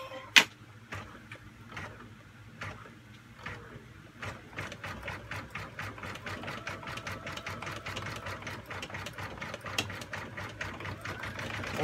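A Brother Innovis NV1500 embroidery machine stitches steadily at close range. After a few scattered ticks, it settles into a fast, even rhythm of needle strikes over a low motor hum, and no one speaks.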